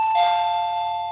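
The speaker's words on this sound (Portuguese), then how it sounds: "atender a campainha" A doorbell chimes once close by, a bright sustained electronic tone that rings out and slowly fades.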